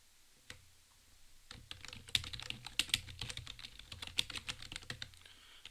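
A name is typed on a computer keyboard, close and quiet: a burst of irregular key clicks and taps after a short pause, with no speech.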